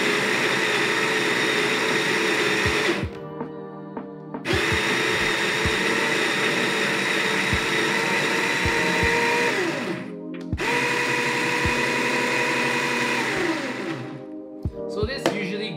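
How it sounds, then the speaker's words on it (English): Baratza Sette 270Wi grinder grinding coffee beans, a loud, close, steady motor whine that stops and restarts twice in bursts, with a few clicks and knocks between runs. "I'm using the Barazza Sette 270 Wi, so"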